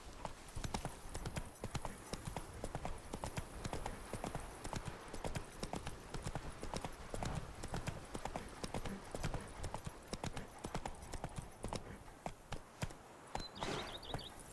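Roach, a horse in The Witcher 3, clip-clopping along in an even, steady rhythm of crisp hoofbeats from start to finish. A voice speaks briefly over the hooves.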